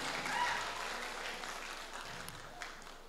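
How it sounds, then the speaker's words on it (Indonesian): Audience applause at a student entrepreneurship event, a steady, fairly faint wash of clapping that holds for about three seconds with a voice faintly present underneath. "Tepuk tangan dong, semester 2."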